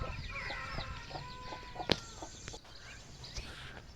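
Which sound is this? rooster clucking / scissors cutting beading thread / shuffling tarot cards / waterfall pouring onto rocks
rooster clucking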